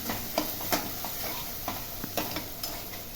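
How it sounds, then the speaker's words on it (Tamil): Chilli powder and masala sautéing in oil for a dal rice dish, a quiet continuous sizzle broken by light ticking taps and scrapes of a spoon against the pan at irregular intervals, nearby, no speech. "இந்த மிளகாத்தூளையும் ஆட் பண்ணி நல்லா வதக்கினதுக்கப்புறம்"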